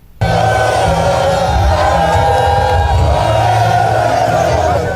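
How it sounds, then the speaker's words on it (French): A large crowd at a presidential candidate's rally in the DR Congo, cheering and shouting loudly and continuously, after waiting hours for the candidate, a dense close roar of many voices. "accueilli par une foule qui a patienté pendant des heures"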